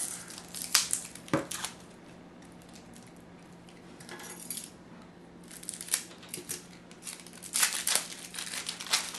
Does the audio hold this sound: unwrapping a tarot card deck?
yes